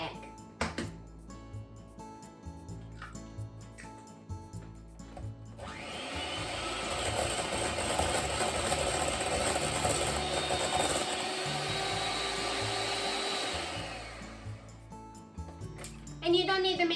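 An electric hand mixer whirs steadily for several seconds as it beats eggs for a matcha green tea cake batter, loud and close in a kitchen, with quieter handling sounds before and after.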